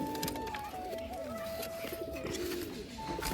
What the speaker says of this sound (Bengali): এই যে সেই পায়রার জোড়াটা নতুন